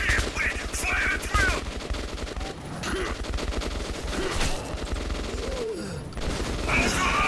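Rapid bursts of gunfire from Metro 2033 crackle through the scene in repeated volleys, loud and close, with brief lulls between fusillades.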